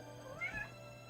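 A cat gives a single short meow, faint and a little distant, over a quiet low hum in the background.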